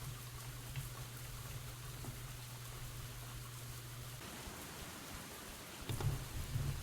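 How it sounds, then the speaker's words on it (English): Steady rain in the Gleaner Heights farming game, a constant hiss that continues throughout, with a soft low hum under it that stops partway through. "because it is raining"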